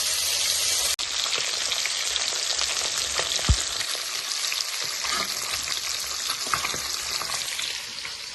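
Onion and panch phoron spices fry in hot oil with a steady, crackling sizzle, heard close, with a sharp clink near the start and light stirring scrapes throughout.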